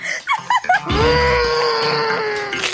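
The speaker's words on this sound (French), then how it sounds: "Arrête de crier." A few short vocal yelps give way to one long, loud, sustained scream that holds its pitch for almost two seconds before cutting off.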